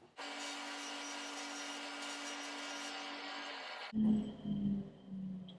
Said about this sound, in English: I'm going to do a tenon about the thickness of the blade